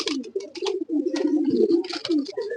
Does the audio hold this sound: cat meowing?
no